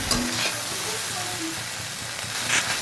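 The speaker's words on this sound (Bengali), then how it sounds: "দেখো ভেজে নিলাম পুরো আলু আর সয়াবিনটা" Potatoes and soybean chunks frying together in a pan give off a constant, fairly soft sizzle, with occasional stirring scrapes coming through near the start and end.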